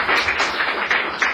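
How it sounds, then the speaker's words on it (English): An audience applauds at Mayor Newsom's Fleet Week 2009 kickoff, a steady, moderately loud patter of many hands clapping with no single claps standing out. "Round of applause."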